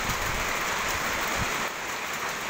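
Rain falling outdoors under cloudy skies at a scuba diving training session, a steady dense hiss of drops filling the whole moment evenly with no voices.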